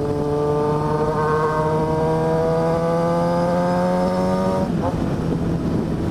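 A Yamaha XJ6 motorcycle with a straight-pipe exhaust roars steadily up close, its engine tone climbing through the rev range before a shift and a brief dip, with wind rush underneath.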